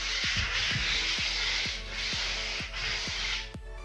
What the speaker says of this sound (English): what happens when you're sanding is it just comes off like chalk dust